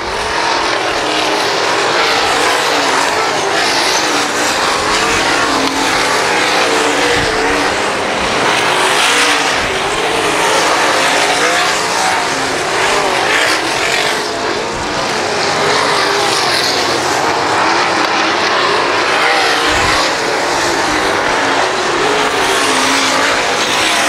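Race cars roar around the oval at Valley Speedway in a late-season race, engines loud and continuous as the pack drives past, with a faint announcer voice barely present under the din.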